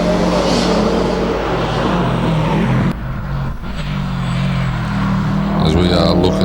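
A small Ford Focus race car blasts across the finish line of a lakeside hillclimb, its engine roaring loudly close by, dipping briefly before the note rises again, while a commentator talks over it.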